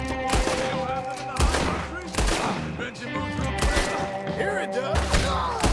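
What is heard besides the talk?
gunfire from the Red Dead Redemption 2 video game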